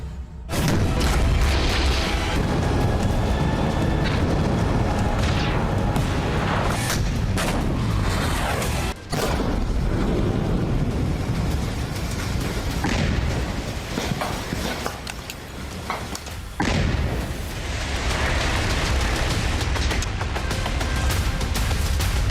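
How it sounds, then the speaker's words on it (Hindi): Heavy blasts as houses of militants are blown up, a dense, continuous barrage of loud booming explosions and rumbling debris with brief lulls, no talk. "दहशतगर्दों के उड़ाए जा रहे घर"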